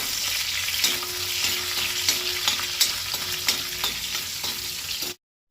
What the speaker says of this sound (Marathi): तेल तापले की तितून आलें, लसूण आनी हिरवी मिरची घालता आनी 2 मिनटां परतून घेता।